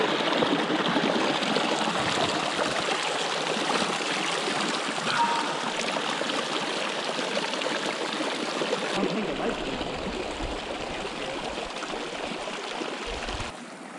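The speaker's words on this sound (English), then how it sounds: "Last creek before Buchanan Pass." Mountain creek in the Indian Peaks of Colorado flowing with a steady, broad rushing wash of water, close and continuous, with no talk over it.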